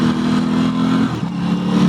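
A 2023 Aprilia RS660 motorcycle engine revs hard and steady, with a brief dip near the middle as the quick shifter clicks through a gear change, then picks up again, close and loud with no talk.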